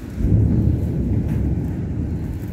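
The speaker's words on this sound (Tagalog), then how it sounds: "Lakas ng kulog." A deep, rolling rumble of thunder swells and lingers outside a building in Sha Tin, Hong Kong, heavy low-end growl sustained throughout with no talking.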